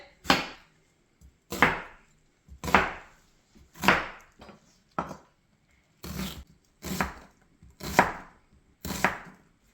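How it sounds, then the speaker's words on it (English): A knife chops an onion on a cutting board, with about ten crisp, close thwacks in an uneven rhythm, some pairs and short gaps between strokes, and no voices. "I chop the onion"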